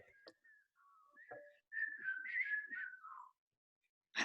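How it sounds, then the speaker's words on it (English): A person whistles a lilting melody alone, short phrases then a longer flowing run, fairly close and clear, ending abruptly with a burst of noise. "Please whistle it for us at your earliest convenience."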